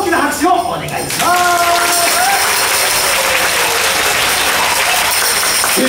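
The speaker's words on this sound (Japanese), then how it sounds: "さあそれでは最後まで盛り上げてくれるという方はどうぞ大きな拍手をお願いします。" Audience applause and cheering at a Halloween show at Tokyo Disneyland, swelling into dense, sustained clapping after a voice and a short musical tone, loud and continuous to the end.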